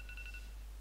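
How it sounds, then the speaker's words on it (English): A telephone rings faintly in a short burst of repeated electronic trills that fade out, then briefly resume, over a steady low hum. "Be quiet, phone."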